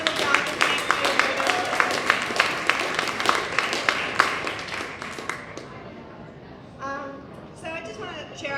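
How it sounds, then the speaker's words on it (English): Board members are applauded by the audience at a Latino Policy Institute celebration. Sharp individual claps ring out for about five seconds, then fade as a voice takes over. "So please a round of applause and thank you"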